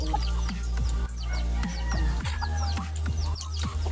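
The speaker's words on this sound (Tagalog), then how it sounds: "Ito yung mga manok." Several chickens cluck and squawk close by in quick, irregular bursts over a constant low hum.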